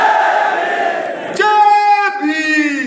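A crowd at a Bhim Army foundation day gathering chants Jai Bhim in unison, a loud surge of massed voices that swells partway through and holds for a couple of seconds, close and dense.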